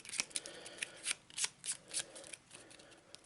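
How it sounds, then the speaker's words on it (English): Arkham Horror playing cards are given a quick shuffle, making a run of soft, close riffling and slapping bursts that come at a steady pace and stay fairly quiet. "So we'll give it a quick shuffle."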